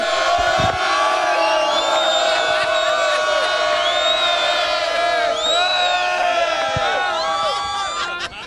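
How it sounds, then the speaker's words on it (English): A crowd of wedding guests at a reception erupts in loud cheering and whooping, a dense sustained roar of voices with scattered shouts that fades slightly at the end. "Okay, everyone cheer for me now."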